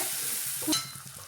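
Ground spice paste for a traditional urad dal curry hitting hot oil with turmeric, a brief burst of sizzling that swells and fades over a constant close hiss.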